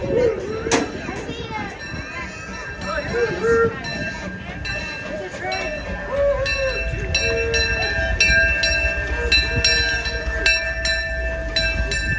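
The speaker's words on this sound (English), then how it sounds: "Getting a little worried, guys, that this train wasn't coming, but it's arriving right now." A Disneyland park train pulls into a station amid a crowded, lively platform, with a steady mechanical rumble, a sharp clank near the start, and children and other people chattering throughout.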